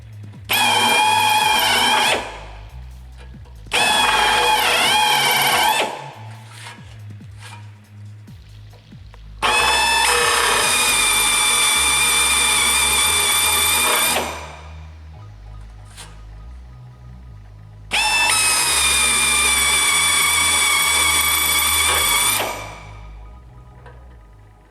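A power drill fitted with brand new blades cuts through a fabricated sill in four loud, sustained bursts of whining, grinding noise. The bursts are separated by short pauses with low background rumble.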